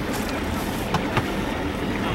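A sailing yacht under engine power heads out toward a race start off St. Pete Pier, Florida, with a steady broad rumble of motor, wind and water and a couple of faint knocks.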